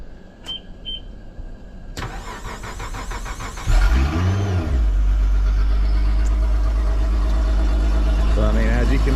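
A Honda outboard motor on a boat cranks over with a whirring starter, then catches and settles into a loud, steady running drone close by.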